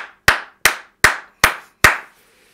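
A church congregation claps five times in unison, loud, sharp, evenly spaced beats with short decays, then falls silent.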